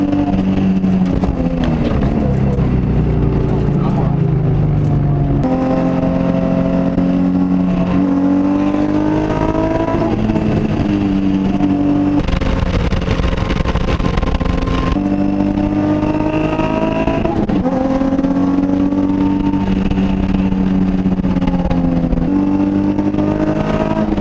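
A Nissan Z lapping a race track, its engine note climbing and falling through repeated gear changes, loud and steady from inside the car with no talking.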